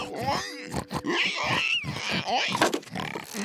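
Pigs grunt and squeal up close in a rough, rapid jumble of snorts and throaty noises.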